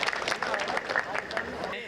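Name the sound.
audience applause at a poetry recital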